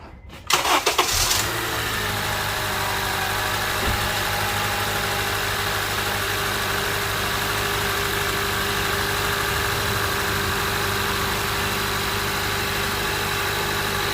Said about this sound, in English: We're just gonna start the engine.